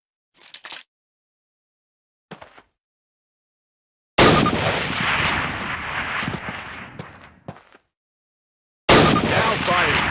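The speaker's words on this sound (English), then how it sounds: "fire 2 rounds at your target" Springfield rifle shots on a training range in the video game Call of Duty, 2003, brief sharp reports separated by silence, then longer loud bursts of booming gunfire with echoing tails, close and forceful.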